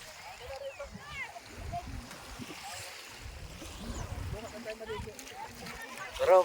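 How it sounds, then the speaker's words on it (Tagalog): Light splashing comes from someone swimming and diving in shallow water at a sandy spot, faint intermittent sloshes under nearby chatter and shouting voices. "Langoy na, Gian"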